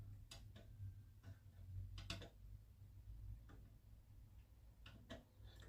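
French grandfather clock with a swinging pendulum and weight-driven movement, ticking in a steady, faint rhythm of sharp clicks about once per second, close by in a quiet room.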